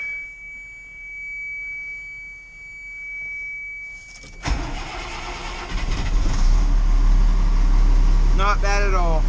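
A 2000 GMC C7500 truck's diesel engine cold-starts after a few quiet seconds, catching with a loud burst and settling into a heavy, steady rumbling idle, close by, with a person briefly speaking near the end.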